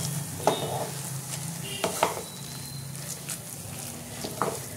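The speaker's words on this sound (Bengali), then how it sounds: "ধনে পাতাটা বেশিক্ষণ আমি নাড়বো না, মিশিয়ে ভালো করে মিশিয়ে তারপর আমি ছেড়ে দেবো" Coriander leaves being stirred into eggplant bharta in a pan: a soft continuous sizzle with a few distinct spatula scrapes and knocks against the metal, close and fairly quiet.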